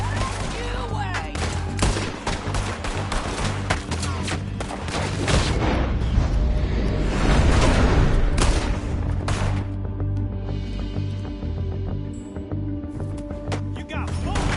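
Gunfire erupts in the western video game Red Dead Redemption 2, with rapid overlapping shots and booming blasts in a dense fusillade, loud and close, while voices shout over the shooting.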